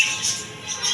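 Lovebirds in a bird shop give faint, high chirps in two short bursts over a steady background hiss, with no one talking.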